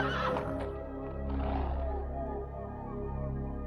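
A horse neighs loudly and close in a Richard III film scene, a long shaking whinny over a low rumbling background, with no talk over it.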